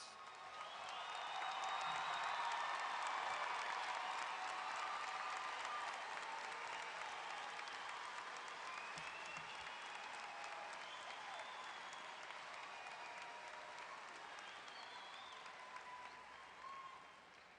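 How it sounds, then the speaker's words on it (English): A crowd at a high school graduation ceremony applauds honored guests, a long, broad wave of clapping with faint cheers and whistles that peaks early and then holds steady before tapering slightly. "would you please stand and accept this round of applause?"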